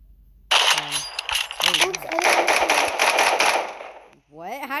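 Rapid automatic gunfire from the online shooter game 1v1.lol rattles loudly for several seconds in a dense burst, with a player's voice heard briefly before and after the shots.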